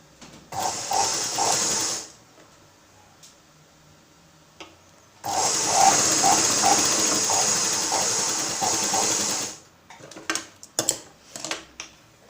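A sewing machine stitching tucks on a blouse, running in two bursts, the first short and the second longer and steady, with quiet handling clicks and fabric rustle in between.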